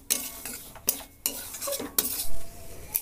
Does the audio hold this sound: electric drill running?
no